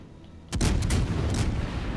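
Heavy ship guns of a tier 5 premium French cruiser boom in World of Warships: Legends, starting after a brief quiet moment with several loud, close blasts in quick succession.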